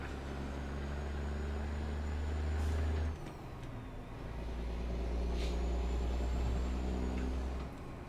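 An old, beat-up vintage truck in American Truck Simulator rumbles with a deep engine drone, its pitch dipping as the load shifts, with sharp air-brake hisses over the steady growl; no voices.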